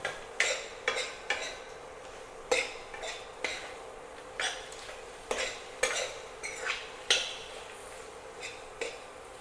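Soya chunks tossed with masala in a pan for a Kerala-style dry roast, with a steady rhythm of spatula scrapes and clatters repeating roughly every second, close and fairly quiet.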